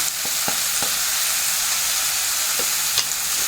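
Makhana (lotus seeds) roast in a pan as spices are stirred in, giving a steady, close sizzling hiss with a few soft stirring taps scattered through it.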